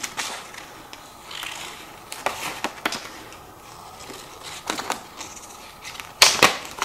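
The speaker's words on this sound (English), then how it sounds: "I'm just going to take my scissors and I am going to trim" Scissors trimming around a Cricut design template for customizing Vans shoes: a series of quiet snips and crisp cutting clicks, close up and irregular, ending in a louder burst of cuts, with no talking.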